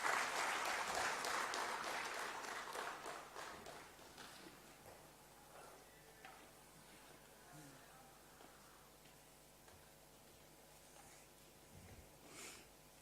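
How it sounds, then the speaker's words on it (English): A seminar audience at a power engineering workshop applauds, the clapping loud at first and thinning into scattered claps that fade out over the following seconds. "A big round of applause again."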